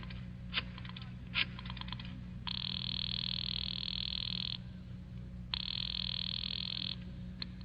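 Two long electronic telephone rings sound in an old radio drama, each lasting about two seconds with a pause between them, over a low steady hum and a few soft clicks.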